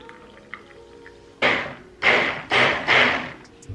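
Water and almond milk poured into chai latte mix, heard as four short bursts of splashing pour, each about half a second, close and fairly loud against a quiet room.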